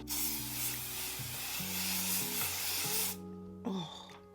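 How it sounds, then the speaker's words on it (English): A makeup fixing spray nozzle hisses in a long continuous burst for about three seconds, then a short second spritz follows, close up. "this is where I'll go in with another setting spray or my fixing spray"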